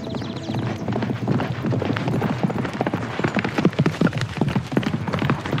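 Hooves of a fast horse clip-clop in a quick, steady rhythm, close and fairly loud, continuing throughout with no voices over them.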